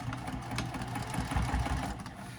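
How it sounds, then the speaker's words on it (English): A sewing machine stitches a second line through vinyl and cork, giving a steady, close mechanical whir with a rapid rhythmic thump that runs throughout, with no talk. "I'm going to come back through and do another line of stitching on the vinyl side, just to the inside of the seam allowance"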